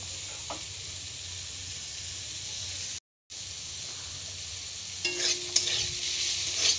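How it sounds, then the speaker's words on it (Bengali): Tomatoes frying in a pan give a steady, close sizzling hiss while being stirred, with a brief dropout midway and louder scraping clatter near the end. "টমেটোটা দিয়ে আমি কিছুক্ষণ নেড়ে নেব।"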